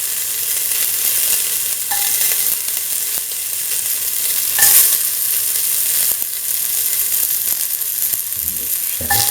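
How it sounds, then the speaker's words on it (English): Onion pieces and red chili sizzle and fry steadily in a hot pan, a dense continuous crackle with occasional stirring clinks and scrapes, close and fairly loud throughout. "Now put in the onion pieces and the red chili."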